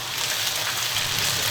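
Sliced garlic and ginger fry in oil and lard in a wok, producing a close, even crackling sizzle that holds steady without a break.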